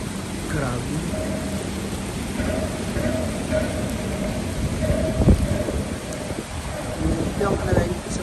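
Strong typhoon wind and heavy rain lash Hong Kong, a constant loud roaring wash of rain and gusts with occasional rumbles, heard from indoors near a window.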